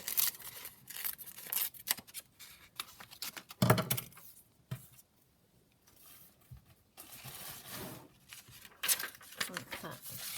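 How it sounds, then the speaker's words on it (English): Paper page from an old Mother Goose book torn by hand for a junk journal, several rough ripping and crinkling bursts close by, separated by quieter gaps. "I'm just going to tear it down this side, just to kind of make it slightly smaller"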